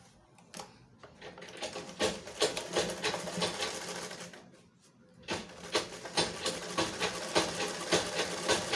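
A sewing machine back stitches shirred fabric sewn with rubber thread, running in a steady close mechanical chatter, pausing briefly partway through, then starting again and continuing to the end.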